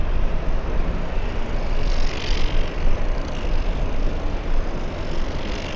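A jet airliner departing LAX for Narita roars loudly and continuously, a broad engine rumble that swells slightly as it passes overhead, with no talking.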